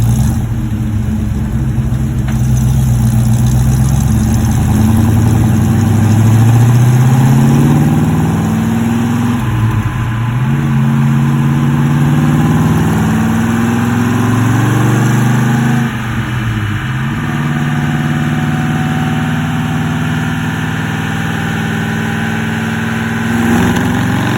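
A 1963 Ford Galaxie with a 445 stroker tri-power V8 and 406 heads, burning oil, on a dyno pull in third gear: a loud, continuous engine roar climbing steadily in pitch, easing briefly, then pulling up again.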